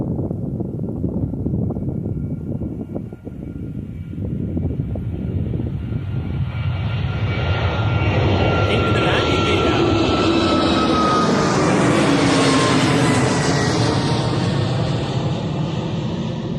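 A Singapore cargo jet at Bristol Airport roars continuously with a broad rumbling drone, swelling louder with a rising then falling whine as it passes close by.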